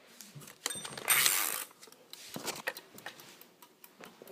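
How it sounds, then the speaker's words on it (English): A microwave's timer ticks quietly with a steady, faint mechanical rhythm, broken by a brief louder rustling burst near the start; no one talks. "Timer, like the ticking of a timer."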